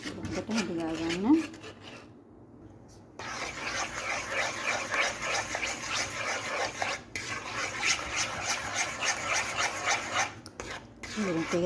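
A spoon scrapes and rasps steadily against a pot as sugar mixture for milk toffee is stirred until the sugar dissolves, before it goes on the stove. The gritty stirring runs near and continuous, with a short quiet gap early on.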